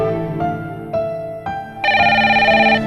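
A telephone tone plays during an outgoing call, a series of loud, steady electronic tones. Each tone shifts in pitch every half second or so, and the last tone sustains longer and brighter.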